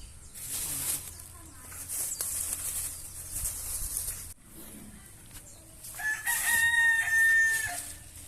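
A rooster crows loudly nearby, a long rising call over outdoor background noise with other faint bird sounds.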